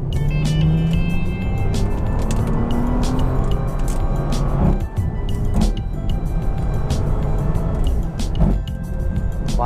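A Bentley Continental GT in sport mode on kick-down acceleration, its engine a steady, loud, continuous roar that holds for several seconds with road and wind noise underneath.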